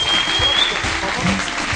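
A TV show audience applauding in a studio, with dense steady clapping throughout a short burst, moderately loud.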